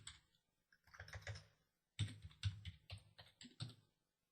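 Computer keyboard typing, quiet clusters of quick clicking keystrokes in two bursts separated by a short pause, close up and alone.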